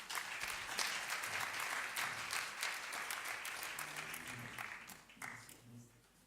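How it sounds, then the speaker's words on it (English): Audience applause at a community engagement conference, a dense, steady clatter of many hands that gradually thins and fades toward the end, with a few low murmurs under it. "please give Claire a warm round of applause"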